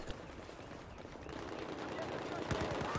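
MX4 rifle fire in the Battlefield 4 video game, heard as fast automatic bursts amid continuous battle noise, fairly faint, with someone talking over it.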